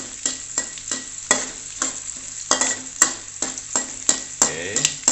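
Green chili sambal ingredients fry in a pan with a constant bright sizzle, while a spatula scrapes and stirs in a steady rhythm of roughly two strokes per second, close up and clear, with no talking.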